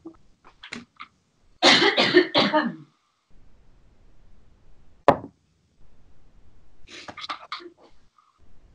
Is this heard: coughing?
yes